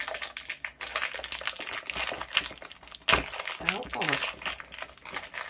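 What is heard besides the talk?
peeling a resin sticker off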